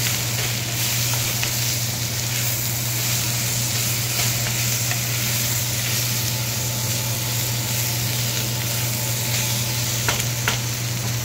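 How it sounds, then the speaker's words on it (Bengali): Fried capsicum and onion stirred with spices in a hot pan for kadai paneer, a steady loud sizzle with continuous scraping and tossing of the spoon against the pan, near and without talk. "ভেজে রাখা ক্যাপসিকাম আর পেঁয়াজ। এটা দিয়ে মশলার সাথে ভালো করে মিশিয়ে"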